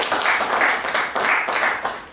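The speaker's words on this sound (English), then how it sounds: "let's give TLB a big round of applause" A crowd at a boxing press conference breaks into applause, dense clapping in steady bursts that swell and fade, loud and close with no talk over it.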